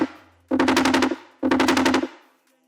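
Wobble bass synth built in Serum and layered with a sub bass: two loud, rhythmic bursts of rapidly pulsing, buzzy modulated tone, each about half a second long, over a steady low hum, with no voices.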